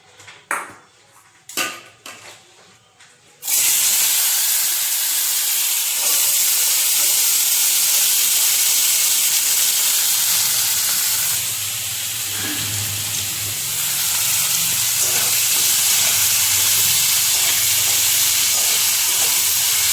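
Chopped beetroot sizzles loudly in a hot pan, a steady hiss that starts abruptly after a few soft clinks and continues close and unbroken.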